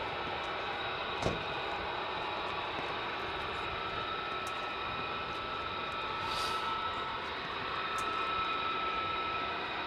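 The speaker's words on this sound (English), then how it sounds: "Lone F-15 over the top." A lone F-15 fighter jet passes overhead at RAF Lakenheath, a steady distant roar holding through the span with a brief sharp click near the start.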